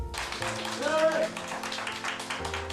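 Applause in a courtroom just after a not-guilty verdict in a retrial, scattered claps from the gallery mixed with voices and emotional murmuring, fairly soft and continuous.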